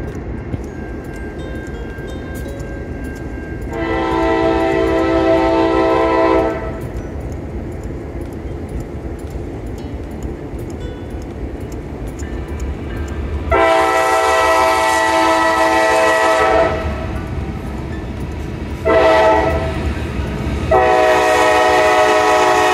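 An Erie County Fair train rolls past with its horn, blowing three loud sustained blasts, the last two in quick succession, over a steady rumble of moving rail cars heard from the back of another train.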